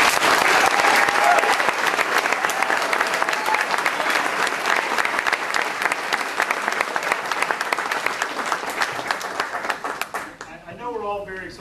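An audience applauds after a superintendent candidate's opening statement, a strong burst of many hands clapping that fills the room, tapers slightly over time, and then gives way to a voice speaking at the end.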